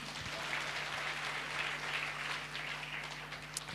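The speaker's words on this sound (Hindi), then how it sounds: "ताली बजाएंगे नहीं?" A church congregation at a Sunday service applauds in a soft, distant wash of clapping heard over a low steady hum, with no voices.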